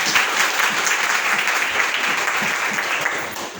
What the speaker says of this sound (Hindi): एक बार जोरदार ताली अपने लिए बजाइए।